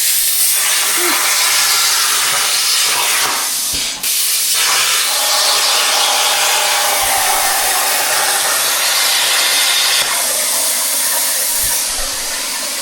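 A cutting torch pierces a hole in metal with a loud, continuous roaring hiss held close by. It dips sharply once, then carries on steadily to the end.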